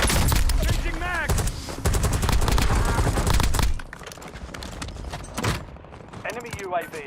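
Gunfire in the video game Warzone comes as rapid, loud automatic bursts, dense at first and then sparser shots, mixed with spoken in-game voice callouts.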